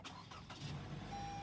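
A 2017 Lexus NX 200t cranks and catches, a brief burst of starter noise settling into a steady, close, low engine idle that holds to the end.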